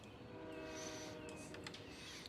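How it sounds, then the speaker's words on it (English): A train rolls into a station in a city-building video game, with steady rumbling and a drawn-out horn tone, constant and fairly loud throughout. "yeah, train coming in"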